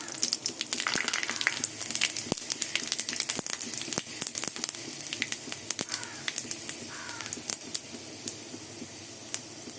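Steady crackling and popping of a dried red chili and panch phoron spices frying in hot oil, with dense sharp sputters throughout, close and fairly loud.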